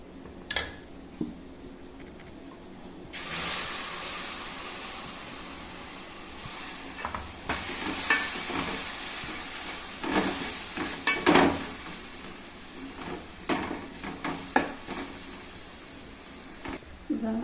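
Ground tomato paste poured into a hot pan for a mackerel curry, a low hiss that swells into louder sizzling with bursts of spattering and scraping, close and fairly strong.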